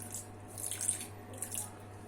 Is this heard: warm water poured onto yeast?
yes